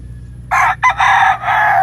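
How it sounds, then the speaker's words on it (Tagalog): A rooster crows once, loud and close, in a gamefowl breeding area in Bohol, with a broken, drawn-out call standing alone over a quiet background. "So nag-start na tayo mag-cording ng napakagagandang mga lahi ng manok."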